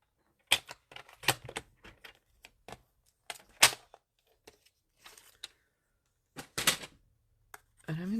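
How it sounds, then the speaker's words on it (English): Cardstock strip being torn and trimmed for a trifold card: a series of short, sharp dry rips and snips spaced irregularly, close and fairly quiet, with no talk. "So let's tear a little strip off of here and trim that to 2 3/4."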